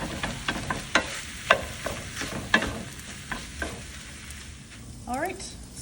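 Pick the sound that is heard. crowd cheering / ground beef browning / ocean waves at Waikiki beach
ground beef browning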